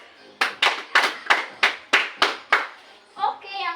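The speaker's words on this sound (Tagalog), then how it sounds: "palakpak" A class claps in unison, about eight sharp, evenly spaced claps ringing out close and loud, followed by a short burst of voices.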